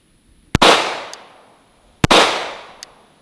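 Two loud, sharp shots from a Cyelee Bull X Pro blaster fired at a target outdoors in light rain, each crack followed by a decaying rush and a faint later impact tick, spaced about a second and a half apart.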